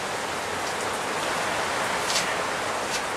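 Steady rain from a cold front falls outside a woodworking shop, a constant, fairly soft hiss of drops on surfaces with no talk.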